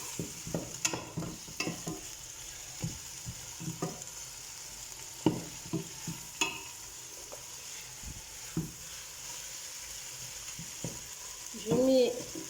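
Marinating ingredients for couscous, including onions and coriander, are stirred in a bowl or pan, giving a series of soft irregular scraping and clinking strokes with a faint sizzle-like hiss, mostly without talk.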